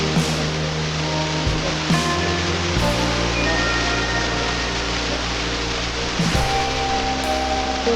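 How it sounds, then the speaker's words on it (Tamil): Clear Falls waterfall in Yercaud: a steady, broad rush of falling water fills the whole clip, with low rumbling underneath and no talk. "கிளியர் ஃபால்ஸுக்கு வந்தாச்சு."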